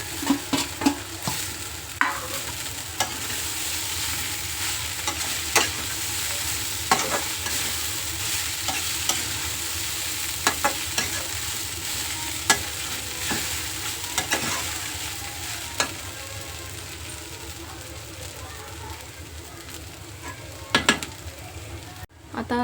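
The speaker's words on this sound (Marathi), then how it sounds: "हे आता भिजवलेले पोहे घालते." Soaked poha stirred in a hot frying pan, a constant soft sizzle with repeated spoon scrapes and clinks against the pan, close by and without speech.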